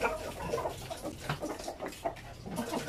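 Chickens in a backyard coop cluck and murmur steadily, close and fairly loud, with bursts of overlapping fowl calls throughout.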